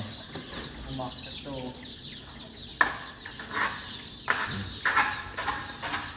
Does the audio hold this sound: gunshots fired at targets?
no